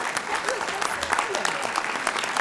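An audience at a scholarship jazz brunch applauds a scholarship recipient, steady mid-level clapping from a crowd that carries on under a speaker's voice.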